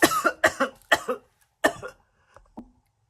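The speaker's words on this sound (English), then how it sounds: "I had a coughing attack." A fit of harsh coughs, several in quick succession, then a pause and a few weaker coughs trailing off, close to the microphone.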